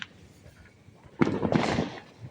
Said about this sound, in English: That was a good firework right there and over there.